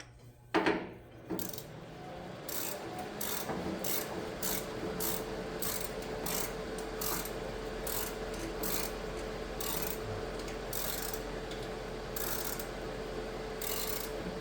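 A ratchet wrench fitted with a deep socket clicks steadily on a bolt of a McCormick W6 tractor, its close, repeated pawl ticks coming in a regular rhythm with a brief clatter near the start.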